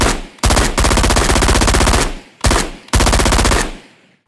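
Designed automatic gunfire built with the Krotos Weaponiser plugin: loud, rapid machine-gun bursts, a long sustained volley followed by two shorter bursts with brief gaps and a tail that fades out.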